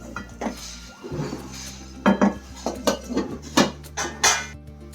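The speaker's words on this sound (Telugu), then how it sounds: "ఇలా 5 నిమిషాలు ఉడికిన తర్వాత కూరని ఇలా కలుపుకోవాలి" A spoon scrapes and clanks against a pan while stirring egg tomato curry, in a series of close metallic knocks.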